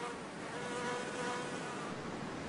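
A female carpenter bee buzzes with a steady, unbroken drone from start to finish. The hum is faint but continuous and has no talking around it.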